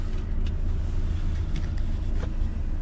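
A loaded Volvo truck rolls along a road, its engine a steady, heavy low rumble from inside the cab, with faint rattles and road noise throughout.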